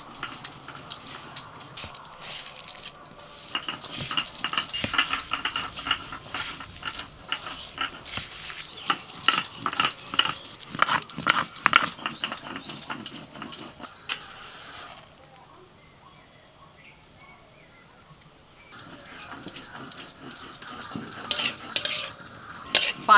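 Sliced potatoes are tossed by hand in a bowl with green chili, turmeric, salt and mustard oil, giving close wet squelching and clinking of utensils, a quiet pause, then more mixing, with a dog faintly present.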